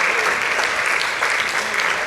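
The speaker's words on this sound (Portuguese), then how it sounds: "Vamos glorificar a Deus com a salva de palmas" A church congregation claps together in a dense, steady round of applause that fills the room and holds evenly throughout.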